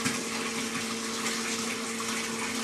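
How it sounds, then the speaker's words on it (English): Water rushes steadily through a pipe-flow test rig, passing through a test section and clear tubing back to a tank, with a pump-like hum under a continuous broadband gush and no talk. "the water flows out of the test section through the clear tubing and then back into the tank"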